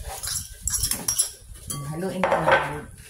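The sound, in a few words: mixing potato salad with mayonnaise and boiled egg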